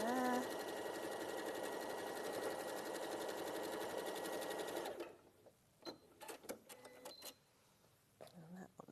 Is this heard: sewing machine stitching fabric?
yes